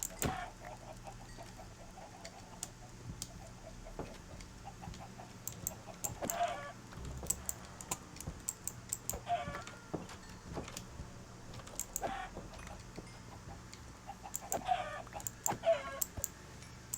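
Minecraft chickens clucking softly in a blocky farm pen, scattered short clucks repeating at irregular intervals against a quiet game background with faint ambient hum.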